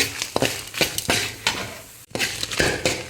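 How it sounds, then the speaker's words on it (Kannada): Coriander seeds dry roast in a pan, stirred so they rattle and scrape in repeated rhythmic strokes, close and fairly loud, with a brief pause midway. "ಒಂದು ಮೂರು ಚಮಚ ಕೊತ್ತಂಬರಿ ಕಾಳು ತಗೊಂಡಿದ್ದೇನೆ ಹಾಕ್ಕೊಂಡು ಚೆನ್ನಾಗಿ ಹುರ್ಕೊಳ್ಳಿ"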